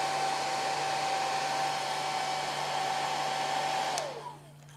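A heat gun blows hot air over a scale model in a hobby workshop, a loud steady whirring hiss with a constant tone that winds down and cuts off near the end, with no voices.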